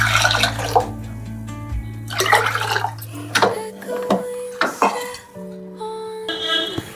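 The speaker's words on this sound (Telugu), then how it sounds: "ఇప్పుడు ఈ చింతపండు రసాన్ని ఇందులో పోసేసుకుందాం" Tamarind juice poured into a pan on a home kitchen stove: a close, splashing liquid pour in several uneven bursts, with clinks of the pan and a steady tonal hum underneath.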